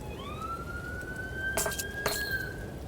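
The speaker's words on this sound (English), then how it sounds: "That sounds more like an ambulance siren" An ambulance siren wails steadily in a long, slowly rising tone over constant background noise, moderately close, with two sharp bursts of clatter partway through.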